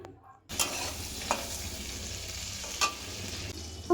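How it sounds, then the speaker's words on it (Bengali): Prawns fry in a little oil in a wok, a near steady sizzle that starts abruptly after a brief quiet moment, with a few sharp stirring scrapes cutting through at intervals. "আমি অল্প তেল দিয়ে মাছটাকে ভাজবো"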